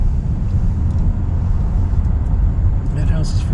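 A car driving north into Pine Plains, New York, with a steady, loud low road rumble and engine drone throughout and a voice talking over it.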